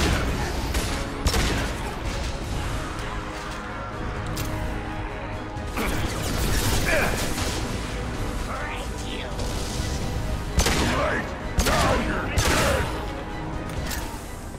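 Pistol fire from the video game Mass Effect 2, sharp reports scattered among other combat crashes and booms in a busy firefight, with talk underneath.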